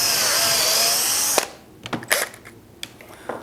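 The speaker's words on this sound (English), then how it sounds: "I'll just drill a couple holes in the traditional way" A power drill drilling shelf pin holes whirs loudly and steadily for over a second, then stops, followed by scattered clicks and knocks of handling.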